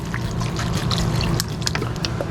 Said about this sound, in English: I'm going to pour in some water